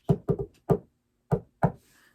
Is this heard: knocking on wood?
yes